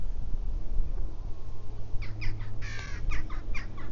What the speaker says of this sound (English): The jackdaws are making a racket here.